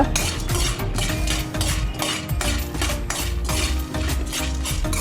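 Seeds roasting in a pan for a dry fruit energy bar: a busy run of metallic scraping and clinking as they are stirred, steady and close, with no voices.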